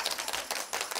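An audience at a live comedy show bursts into clapping, a dense, continuous wash of hand claps that swells and dips slightly over one second, with no talking.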